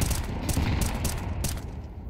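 A barrage of gunfire in a professional Counter-Strike match on the Overpass map: loud, dense overlapping shots in a continuous burst lasting about two seconds, close and heavy, no talking.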